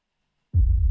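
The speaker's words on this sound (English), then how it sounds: "I just used low booms here" After a moment of silence, a deep, heavy boom hits suddenly and rumbles low and loud, cut off abruptly at the end.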